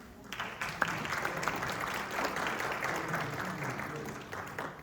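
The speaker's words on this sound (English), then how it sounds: "give him a round of applause" An audience applauds a physical therapist as he is introduced for a talk on arthritis: steady, dense clapping from a room of people that holds at an even level for several seconds, with no voices over it.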